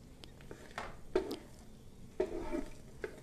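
Dried red chillies frying in hot mustard oil in a pan, giving a soft, steady sizzle with a few light stirring scrapes and clinks.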